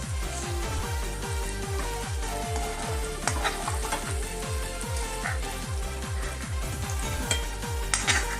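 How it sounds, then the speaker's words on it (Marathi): Paneer frying in a pan, a strong continuous sizzle with rapid, evenly spaced stirring scrapes, close and loud, with occasional clinks near the end. "पनीर तळून झालेलं आहे."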